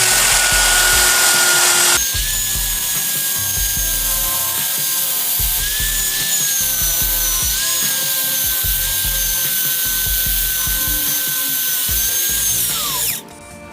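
A power drill whirs steadily at high speed, with a rasping, scratchy grinding as a spinning fishing rod blank rubs against sandpaper, then the motor cuts off.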